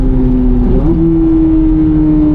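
A 670 hp 2024 Corvette Z06 being driven hard, heard from inside: a loud, dense engine drone that dips and resettles as the gearbox shifts, then holds a steady, slowly rising tone.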